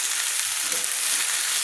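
Spring onion stalks stirred and frying in a hot pan for a prawn dish, giving a steady, close hiss of sizzling oil with no talk throughout.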